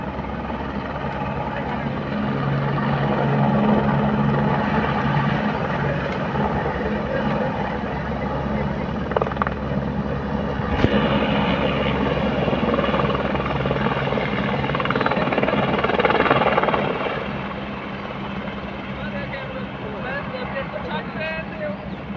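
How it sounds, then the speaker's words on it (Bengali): A helicopter lifting off from the Ghangaria helipad in the mountains, its rotor and engine roar building loud and steady before fading somewhat, with voices talking underneath. "আবার এখান থেকে ছেড়ে দিল হেলিকপ্টার।"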